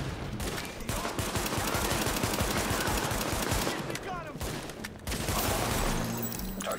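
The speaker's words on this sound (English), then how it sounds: "I'm playing these guys on with a pistol." Gunfire in the video game The Division, including pistol shots: loud, dense bursts of rapid shots and fusillades that run almost without a break across the whole stretch.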